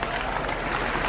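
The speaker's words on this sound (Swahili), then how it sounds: "Mutinye muhorere makofi mega." An audience at a political gathering in Murang'a bursts into sustained, dense applause, a continuous wash of clapping from a large crowd.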